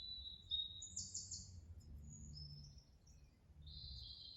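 Small birds chirp and tweet in short bright bursts from a screen playing nearby, fairly faint over a low indoor hum, with no one talking.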